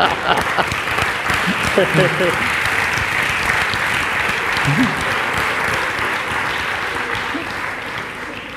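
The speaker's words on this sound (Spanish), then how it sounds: "Un aplauso para ella." Crowd applause at a live interview event, thick sustained clapping with voices and a few shouts mixed in, gradually easing toward the end.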